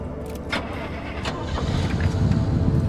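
A car engine starts in the video game Pacific Drive: a rising mechanical rumble swells and settles into a steady running hum, with a few short sharp clicks early on.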